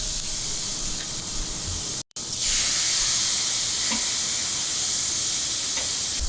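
Fatty lemongrass-marinated Vietnamese pork chops grill over an open fire with a loud, continuous, hissing sizzle like a spray. It cuts out for a moment, then returns even stronger, with faint pops underneath.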